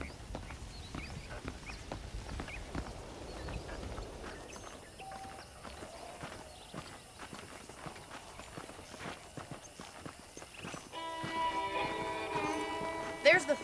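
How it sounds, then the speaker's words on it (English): Horse hooves clip-clopping in the video game Red Dead Redemption, a steady walking rhythm of soft close thuds that goes on throughout, with game speech over it and a brighter burst of other sound near the end. "The horses are saddled up over here."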